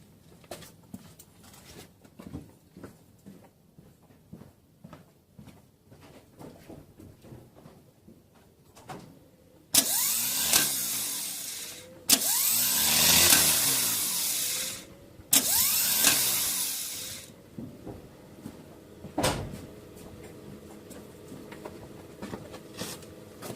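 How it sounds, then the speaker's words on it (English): A Chevy starter motor with a faulty remote solenoid cranking after the key is turned: quiet clicks and shuffling, then loud, sustained whirring cranking bursts near the car, the longest about three seconds, separated by short pauses. "Okay, I'll just go and turn the key."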